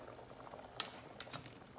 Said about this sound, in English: I have some potatoes here furiously boiling away